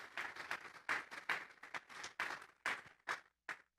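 Church congregation giving a round of applause to God, loose clusters of hand claps in uneven bursts that thin out toward the end, moderately near.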